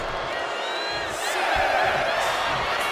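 A video game wrestling arena crowd in WWE 2K25 roars and cheers continuously, a dense, loud wash of voices that swells slightly partway through.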